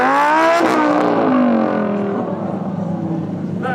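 A Lamborghini Aventador engine revs hard and loud at Brands Hatch, its pitch sliding down as the roar fades slightly, close up.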